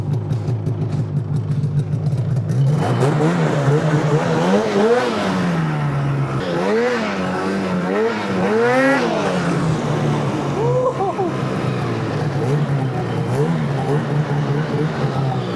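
An 858 Catalyst snowmobile engine fitted with an HPS exhaust can idles with a low drone, then revs hard in several rising and falling bursts before settling back to idle, close by.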